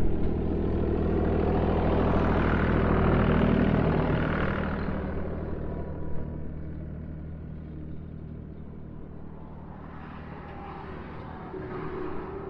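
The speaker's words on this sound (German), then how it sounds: "Jetzt kommt ja gerade ein Traktor, glaube ich." A tractor rumbles past on a country road, a low heavy engine drone that swells loud and near, fades, and then another vehicle approaches and passes behind it, with no talking.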